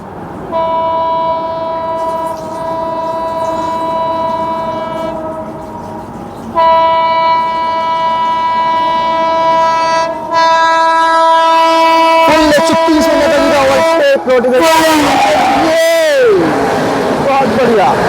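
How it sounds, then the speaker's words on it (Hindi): The 12311 Netaji Express passes at full speed, its horn sounding long sustained tones before the roar and clatter of the coaches rushes close by, with a voice talking over it. "चलिए तो दोस्तों हमारे सामने से नेताजी एक्सप्रेस फुल स्पीड में"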